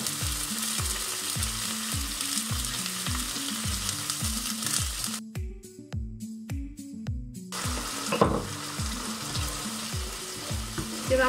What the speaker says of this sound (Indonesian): Kita masak sampai sausnya ngentol dan agak nyusut airnya.